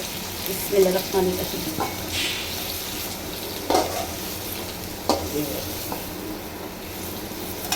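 Pointed gourd (potol) frying lightly in a pan: a steady close sizzle with repeated spatula scrapes and stirring knocks, and a voice faintly audible in the background at times.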